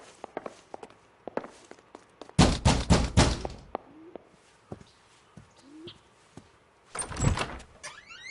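A door in L.A. Noire makes a burst of loud rattling knocks, then a second shorter burst, with scattered footsteps and small knocks in between, close and free of talk.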